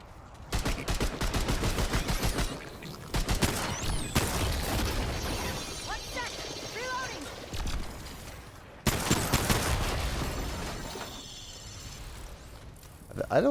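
Pistol fire in a first-person shooter: repeated sharp shots in quick strings with clinking mechanical effects, fairly loud, with a voice talking over parts of it.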